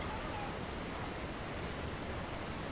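A continuous, even roar of a waterfall close by in the video game Ark Survival Evolved on the Aberration map, filling the whole stretch with steady hiss and no talk.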